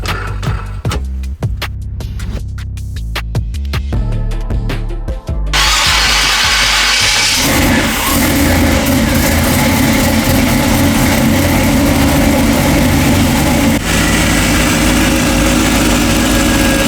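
EFI V8 engine in a Toyota pickup cranks briefly, then catches and settles into a loud, steady idle that runs close and continuous.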